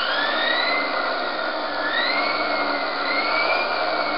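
A series wound brushed DC motor driven by a Kelly Controls KDZ48400 controller whines loudly and steadily, with rising tonal sweeps as the throttle opens.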